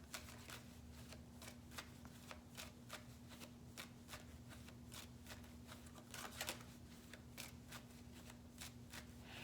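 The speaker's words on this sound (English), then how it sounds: "I'm going to use our Kipper deck to clarify on this" A Kipper card deck shuffled by hand, producing a steady run of soft, rapid card flicks and riffles, faint and close over a constant low electrical hum.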